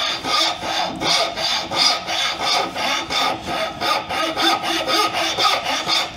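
A fine hand tool shaves thin curls from a wooden tenon on a double mortise and tenon joint, giving a steady run of rhythmic rasping strokes, about two per second, close and fairly loud with no talk.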